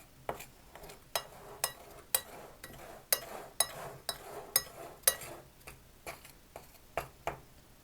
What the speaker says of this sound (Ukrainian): я додала розпушувач сіль і ванільний цукор. Це все перемішати.